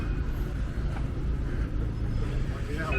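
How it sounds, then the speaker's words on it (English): Street traffic with buses rumbling past in Avignon, France, near the old city walls: a steady low engine drone fills the whole stretch, moderately loud and close, without clear individual pass-bys standing out. "the buses come through here"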